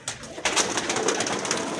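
Pigeons coo close by, their soft throaty calls mixed with rustling and shuffling noise.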